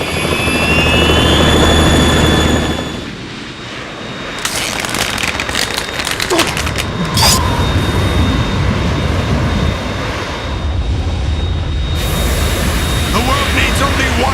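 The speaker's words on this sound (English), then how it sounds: "It's the Harrier." A Harrier jet in the Metal Gear Solid 2 video game roars with a broad, loud engine rush that dips briefly, then returns with sharp bursts and a sustained high whine, mixed with game effects.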